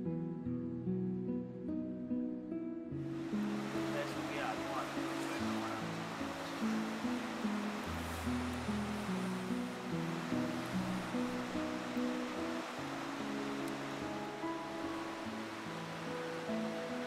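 Water of the Ramganga river in Uttarakhand flowing past a riverside campsite, a steady broadband rush that swells in after a few seconds and holds alone, over faint low tonal background sounds.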